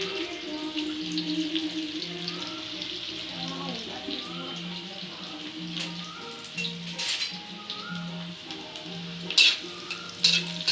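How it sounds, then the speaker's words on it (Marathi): Onion frying until golden in a home kitchen pan, a steady close sizzle with occasional crackles and stirring scrapes, with faint background music or tones underneath. "कांदा छान सोनेरी रंगावर भाजून घ्यायचा"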